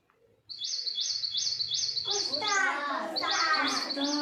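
Birds chirp in quick repeated high tweets, a steady rhythmic call joined by a busier twittering chorus, fairly close and clear.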